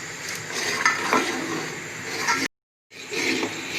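A spoon works through rice kheer simmering in a pot, making soft scraping and bubbling sounds close up, cut off by a short gap of silence before the stirring carries on.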